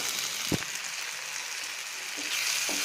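Tomatoes and green chillies sauté in a pan with a steady, bright, close sizzle, broken by a few soft knocks of stirring.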